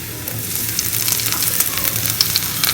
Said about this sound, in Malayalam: ഇനി ഇതിലേക്ക് ഒരു 3 പച്ചമുളക് ചോപ്പ് ചെയ്തത് ആഡ് ചെയ്യാം.